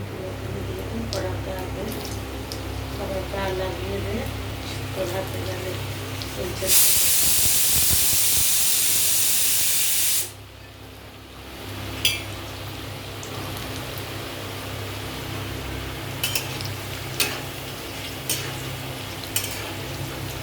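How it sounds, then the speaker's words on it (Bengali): Diced potatoes dropped into hot oil set off a sudden loud hiss that roars for a few seconds, then settles into quieter crackling frying, with someone speaking before and around it. "এই আলুটা এবারে তেলের মধ্যে ছাড়বো"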